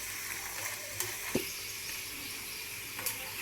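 Potatoes frying in a pan for aalu fry, a soft steady sizzle with a few brief clinks of stirring, quiet and close, no voices.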